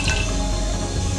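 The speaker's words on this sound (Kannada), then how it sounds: "150 ml ಅಷ್ಟು ಎಣ್ಣೆ ಹಾಕಿದ್ದೀನಿ." Roughly 150 ml of cooking oil goes into a heated pot for mutton biryani, making a close, loud liquid gurgle and sputter that lasts just over a second with no talk.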